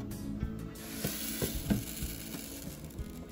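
Harvested purple perilla seeds handled by hand give off a close, dry crackling rustle with small irregular clicks, steady for a few seconds and not covered by speech.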